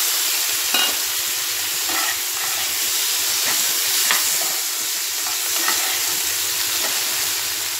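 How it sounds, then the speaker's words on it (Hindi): Chopped tomatoes fry with onions in a hot pan, giving a loud, steady close-up sizzle and crackle with scattered small pops and occasional stirring throughout. "अब इसके अंदर हम टमाटर डालेंगे"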